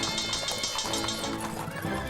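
Early-1900s fire brigade horse teams gallop with busy, clattering hoofbeats, and a horse whinnies partway through, all loud and close across a dense, steady wash of sound.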